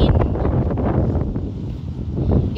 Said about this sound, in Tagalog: Mainit siya pero mahangin.